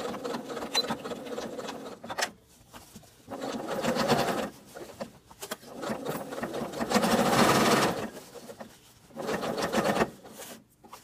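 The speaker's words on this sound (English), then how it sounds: "it's just a matter of sewing all the way around" Sewing machine stitching around the hem of a pair of jeans, running in several bursts of steady motor whirring and needle clatter with short pauses between them, close and moderately loud, without talk.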